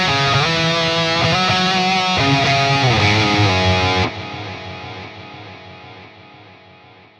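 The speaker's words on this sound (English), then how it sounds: "So currently at 500 milliseconds, the delay sounds like this." A distorted electric guitar riff runs through a 500 ms delay on the Fortin Nameless Suite X amp plugin, chunky chords and a bend for four seconds, then the echoes repeat and fade gradually once playing stops.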